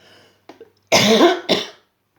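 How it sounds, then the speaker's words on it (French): A person coughs twice, loud and close, after a brief quiet breathy sound. "il faut que je tousse"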